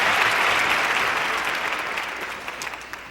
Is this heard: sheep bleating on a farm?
no